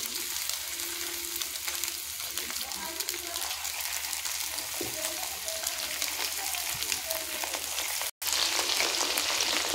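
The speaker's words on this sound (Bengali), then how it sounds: "তো চিকেনগুলো ভাজতে দিয়ে দিয়েছি" Chicken pakoras deep-fry in hot oil, a steady close bubbling sizzle with soft clinks of pieces being moved, a brief cut near the end, and a voice speaking faintly underneath.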